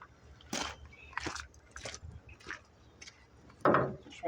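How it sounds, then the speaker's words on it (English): Irregular crunching, grinding clunks from the worn steering gear of a 1966 AMC Marlin being worked, several separate gritty bursts close by, with one louder crunch near the end. "Nice crunchy in that steering gear."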